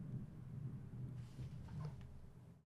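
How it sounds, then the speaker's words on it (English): Loud thunder from a nearby storm, a deep continuous rumble rolling on for a few seconds before cutting off abruptly. "Wow, the thunder is really loud."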